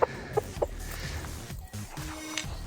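Backyard chickens cluck softly in a few short, separate calls early on while being fed pumpkin and spaghetti squash, with quiet outdoor rustling and background noise throughout.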